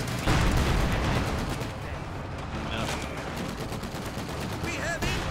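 Gunfire in a competitive Alienware Arena video game match, dense overlapping bursts of shots and booming impacts throughout, loud and close, mixed with game effects and commentator voices.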